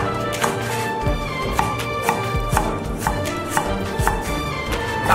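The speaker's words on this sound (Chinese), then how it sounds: "切些青红菜椒。" A knife chops green and red bell peppers on a cutting board, with roughly a dozen crisp, evenly spaced chopping taps, close and clear, and no one talking.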